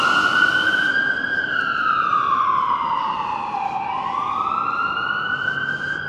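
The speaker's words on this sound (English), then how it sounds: "It's an ambulance." A wailing ambulance siren on a downtown Vancouver street, a loud, close, continuous tone that slowly sweeps down in pitch and rises back up over steady traffic rumble.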